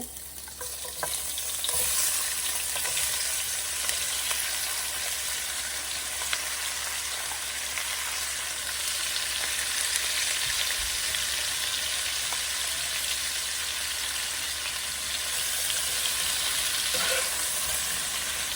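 Cumin seeds sizzle steadily in hot oil, tempering for Bangladeshi fried sarpunti fish, with a dense continuous crackle and a few faint stirring clicks, close and without talk.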